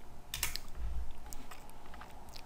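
Someone types on a computer keyboard to open a Windows command prompt, with a quick cluster of key presses and a few scattered taps in a quiet room.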